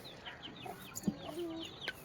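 Chickens on a farm cluck in short, soft calls with a few sharper squawks, fairly close and moderately quiet against faint background noise.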